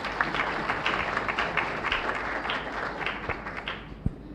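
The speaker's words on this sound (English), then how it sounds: "So I want to applaud you for that." Applause from an audience at an international global health diplomacy event, a fairly steady patter of clapping lasting several seconds at moderate level, with one sharper clap near the end.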